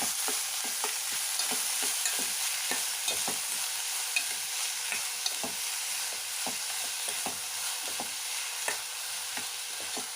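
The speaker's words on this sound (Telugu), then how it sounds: "నేను ఉప్పు కూడా యాడ్ చేసేస్తానండి త్వరగా మగ్గుతాయి కదా ఒక స్పూన్ వేసుకున్న తర్వాత టేస్ట్ బట్టి మళ్ళీ వేసుకుందాం బాగా మిక్స్ చేసుకుందామండి" Chopped onions with salt fry in a pan, a steady bright sizzle broken by repeated soft scraping clicks of a spoon stirring, close and fairly quiet with no talking.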